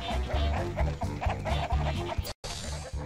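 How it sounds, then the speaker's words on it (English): Chickens cluck in the Shrek 2 video game, several birds giving loud, close, rhythmic bursts of clucking that break off in a brief silent gap near the end before resuming. "Chickens all over the place."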